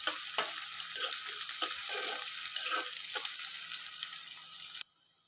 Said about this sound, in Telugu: ఆనియన్స్ కూడా మంచిగా రెడ్డిష్ కలర్ వచ్చేదాకా మనం ఫ్రై అయితే చేసుకోవాలి.